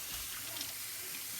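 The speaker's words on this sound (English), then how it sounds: "take your thumbnail and under running water" Tap water runs steadily into a sink while a trout is cleaned under it, a close, even hiss with no talk.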